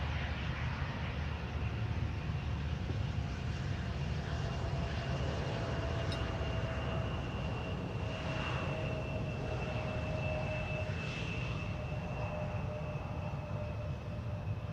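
Jet aircraft at Amsterdam Schiphol's Polderbaan runway, an Embraer regional jet landing and vacating at the first exit, its steady distant engine roar and whine continuous throughout, with no voices.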